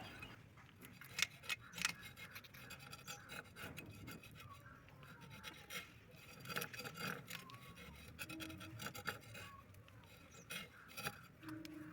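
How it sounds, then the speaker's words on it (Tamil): A whole fish is scaled by hand in a home kitchen before frying, with intermittent raspy scraping strokes and small clinks, close and fairly quiet. "முதல்ல நல்லா செதல்லாம் க்ளீன் பண்ணிக்கிறேன்."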